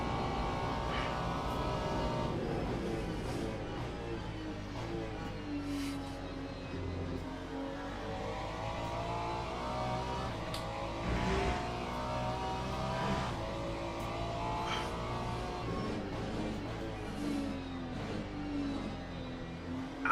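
A GT3 race car engine in the racing game Le Mans Ultimate drones continuously, pitch rising and falling through gear changes and braking, with other cars' engines blending in behind.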